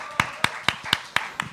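Audience at a university program showcase clapping to welcome a student presenter to the stage, heard as seven sharp, evenly spaced claps, fairly close and clear rather than a dense roar.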